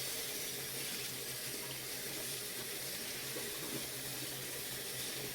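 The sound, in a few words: rinsing a stuffed toy under a running tap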